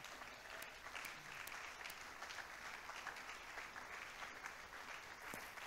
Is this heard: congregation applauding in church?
yes